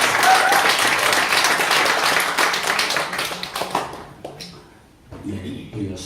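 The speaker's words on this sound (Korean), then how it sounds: "박수 한번 합시다." A church congregation applauds together, loud sustained clapping that thins out and fades into scattered claps and murmuring toward the end.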